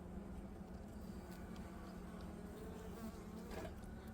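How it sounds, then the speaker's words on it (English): Honey bees buzzing as they exit a beehive during a winter survival check, a dense, continuous low drone of many insects heard up close and fairly quiet. "So some bees started to exit over here."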